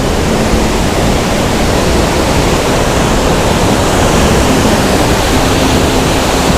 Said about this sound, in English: The water is pouring off the edge.